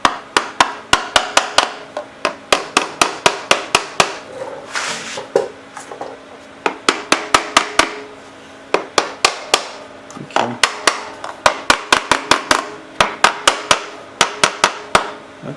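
A part is hammered home during a Sears generator repair: loud, close, sharp metallic blows come in quick bursts of several strikes, repeated with short pauses throughout.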